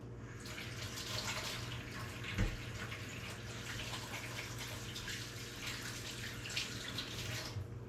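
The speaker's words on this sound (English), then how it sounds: "So I gotta wash my hands." Running tap water pours steadily into a sink while hands are washed beneath it, a continuous close splashing hiss with one brief knock partway through and no talking.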